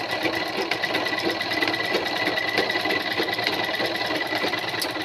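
A sewing machine stitches a Punjabi dress, running a fast, even, continuous whirring chatter close by for the whole stretch, with no talk over it.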